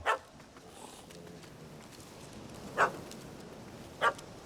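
A dog in The Witcher 3: Hearts of Stone gives three short, separate barks, one at the start and two near the end, fairly close over a quiet background.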